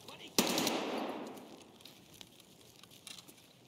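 Gunfire in the video game Escape from Tarkov: a single sharp close shot with a long rumbling tail, followed by faint scattered distant shots.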